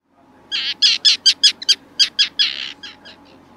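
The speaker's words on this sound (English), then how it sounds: "Tropic bird." A tropicbird calls in a loud, close run of shrill, raspy squeaks, about a dozen notes with uneven spacing that trail off into fainter ones at the end, with no voices.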